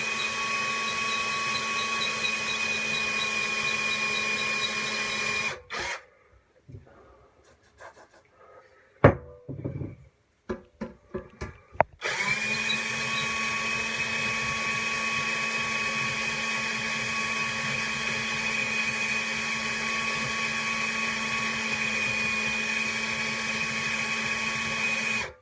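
A hole cutter grinding through stainless steel for a boiler element gives a loud, steady whining drone. It breaks off midway for several seconds of scattered knocks and scrapes, then resumes at the same level to the end.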